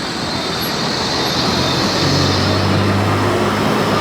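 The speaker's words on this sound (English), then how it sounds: "Another tram coming by." A tram rumbles past in Blackpool, a loud, continuous low rolling roar with some broadband rail and street noise, steady from start to finish with no voices.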